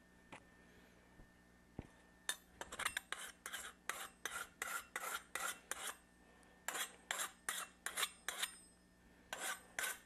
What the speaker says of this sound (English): We're just going to keep filing it down till we get a nice, get it down to the brass part.